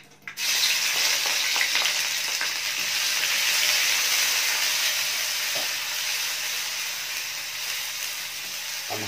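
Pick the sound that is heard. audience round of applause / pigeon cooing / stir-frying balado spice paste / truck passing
stir-frying balado spice paste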